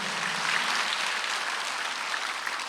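A congregation at a Sunday church service applauds in a continuous, dense patter of clapping that holds steady for a few seconds with no talk.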